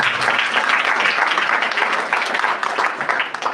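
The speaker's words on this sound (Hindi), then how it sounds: "ताली बजाकर परमेश्वर को।" A church congregation claps together in praise, producing a loud, continuous wash of hand claps that holds steady from start to finish with no speech over it.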